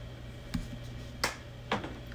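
Three sharp, separate hand claps sound close and fairly quiet over a low steady room hum, spaced a little over half a second apart.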